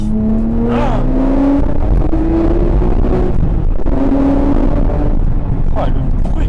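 A Porsche 911 GT3 RS 3.8 (997.2) flat-six engine revs loud and close, pitch sweeping up and down through several rising pulls, with a person talking over the engine.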